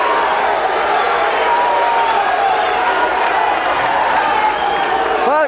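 Wrestling crowd at a 2005 Delaware versus Region 7 and 8 senior all-star meet cheering and applauding loudly and steadily, a dense roar of claps and voices filling the arena throughout.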